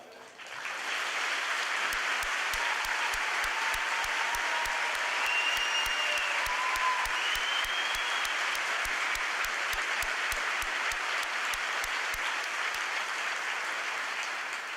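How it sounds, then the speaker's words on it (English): Sustained crowd applause at a high school commencement, honoring graduating seniors who are joining the military, a broad steady roar of clapping lasting well over ten seconds at even loudness. "Let's give them a round of applause as well"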